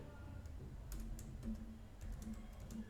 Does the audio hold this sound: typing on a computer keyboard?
yes